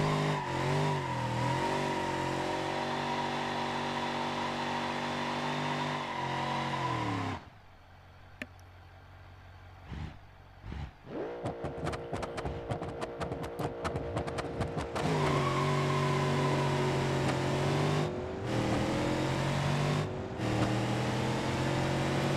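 A 1968 Dodge Charger engine in BeamNG.drive roars through a drag run, steady and loud with rising revs, then cuts to a brief quieter gap before sharp bursts and renewed throttle return strongly, with shifting engine harmonics throughout.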